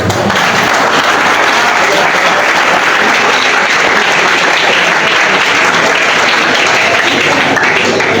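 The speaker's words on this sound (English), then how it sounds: "I think that powerful keynote deserves another round of applause." Loud, dense applause from a large audience after a keynote speech at an International Youth Day and skills competition awards event, a steady roar of clapping sustained throughout with no pauses.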